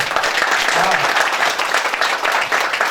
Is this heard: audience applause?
yes